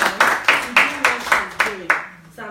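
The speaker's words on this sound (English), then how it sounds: "I want to give Anna a round of applause." A few sharp, rhythmic hand claps ring out at a women's network gathering, about eight evenly spaced close claps in a short burst with little crowd noise behind them.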